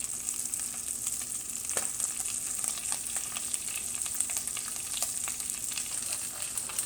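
Polenta cakes frying in a pan over medium heat, a steady close crackling sizzle with scattered pops and spits, continuous and alone without talk.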